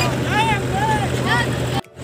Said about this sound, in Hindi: तो ये ट्रैक्टर चला रहे हैं